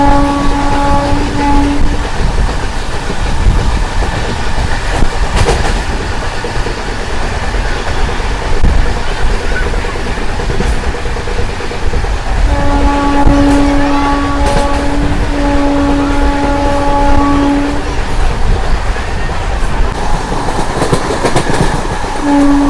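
A Tirupati to Puducherry MEMU Express train rumbles steadily and loudly, with several long sustained horn blasts, one near the start and a series in the second half, over continuous rail noise and clatter.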